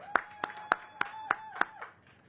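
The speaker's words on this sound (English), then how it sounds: "Christy Whitfield, let's give Ms. Whitfield a round of applause." Audience at the Downtown Holiday Market in Washington, DC giving a short round of applause, about six distinct sharp claps in a quick, slightly uneven rhythm, fairly faint, alone.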